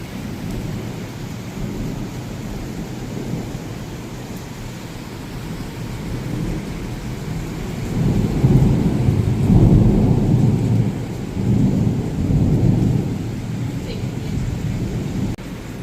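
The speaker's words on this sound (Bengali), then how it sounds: "বৃষ্টি পড়ছে।" Rain falls steadily during a nor'wester storm, a continuous low rumble and hiss that swells louder for several seconds midway, like rolling thunder, with no talk over it.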